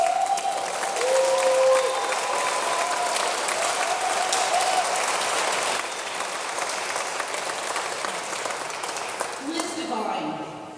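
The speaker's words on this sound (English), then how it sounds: "Can we give Inspire Awards another round of applause?" Sustained audience applause at an INSPIRE Awards 2019 ceremony for women, dense clapping filling the room for about ten seconds, with a faint tonal sound early on and the clapping thinning near the end.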